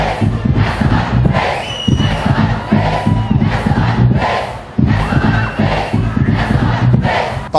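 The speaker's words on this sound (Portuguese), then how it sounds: "Cerca de 40 mil pessoas estão aqui no circuito do carnaval Palmas" A huge carnival crowd of about 40,000 people in Palmas roars and cheers in continuous loud waves of shouting, close and dense throughout.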